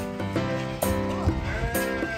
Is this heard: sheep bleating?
yes